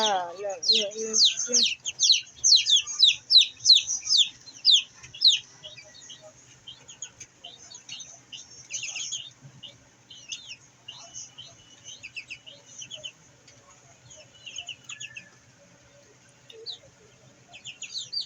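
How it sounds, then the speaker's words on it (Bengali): Chinese ducks kept on a balcony give rapid, high-pitched peeping calls, loud and dense for the first few seconds, then sparser and fainter chirps continuing to the end. "বারান্দায় চীনা হাঁস পালন করতেছি"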